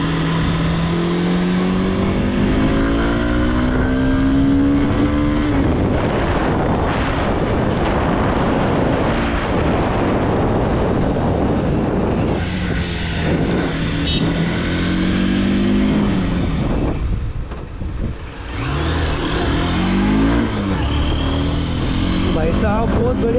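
A 2023 Honda Unicorn BS7 motorcycle rides at speed in third gear near 80, engine drone and strong wind rush throughout with shifting pitch, while someone talks over it.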